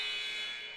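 Basketball game buzzer at a women's college basketball game, Macomb versus Community Christian, a loud flat electronic blare held steadily and fading slightly over less than a second, with no voices.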